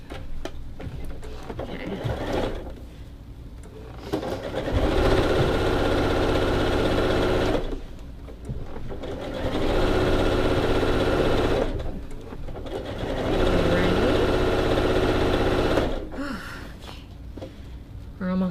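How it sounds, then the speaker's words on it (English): Sewing machine free-motion quilting a baby quilt, running in bursts of a few seconds each with short pauses between, steady mechanical whirring up close, with occasional talk. "you're pulling an entire quilt and bedding and backing through the machine"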